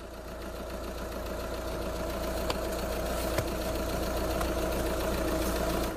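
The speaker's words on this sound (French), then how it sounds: "les diesels, ça cogne, ça fait un bruit." A diesel car engine idles steadily up close, a continuous low rumble with a rough, knocking clatter and faint vibration, with no voices.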